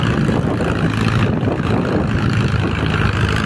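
Mahindra Arjun 605 tractor engine labouring in gear while pulling a high loaded trolley, a dense, steady low rumble, close and loud throughout with no voices.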